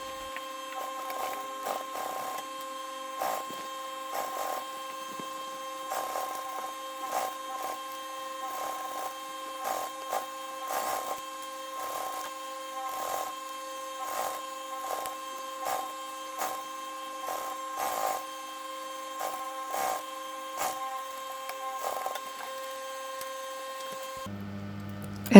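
A sewing machine stitching a shoulder bag, running in short regular bursts with a steady mechanical whir and a rhythmic needle tapping, fairly quiet and close, with no talking.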